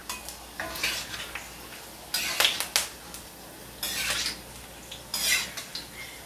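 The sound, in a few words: fish with ginger frying in a hot wok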